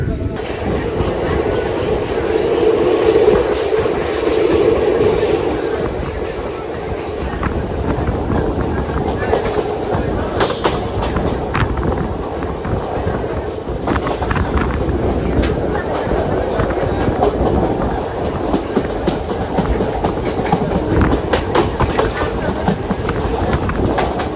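The 22149 Ernakulam–Pune Superfast Express rumbling along the rails with steady clattering of wheels over joints, loud and close, continuous throughout.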